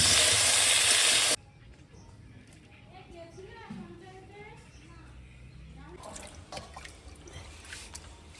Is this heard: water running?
yes